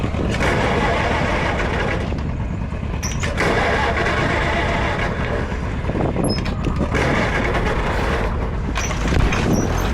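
A Cub tractor engine chugs loudly and steadily while plowing in second gear, its roar dipping and surging in spells, close to the listener, with a faint voice briefly heard over it.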